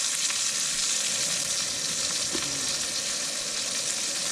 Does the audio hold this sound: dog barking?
no